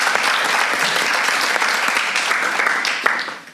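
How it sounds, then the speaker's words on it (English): An audience applauds a speaker at a lecture on psychedelic science, a dense sustained clapping that fades out at the end. "give a warm round of applause for Josjan Zijlmans"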